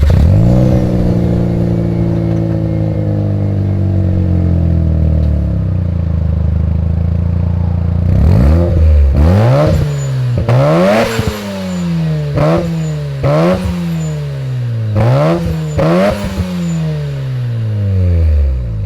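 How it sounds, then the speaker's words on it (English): Mazda RX7 fitted with an HKS carbon fiber muffler and titanium-tip exhaust, first idling with a steady low rumble, then revved in a series of about seven sharp throttle blips that rise and fall in pitch, loud and close with no talk. "the HKS carbon fiber muffler,"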